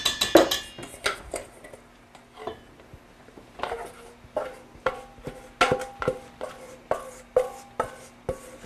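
A spatula scrapes wet batter for a zucchini bake out of a bowl in a steady run of short, close scraping and knocking strokes, roughly one per half second, with no talking.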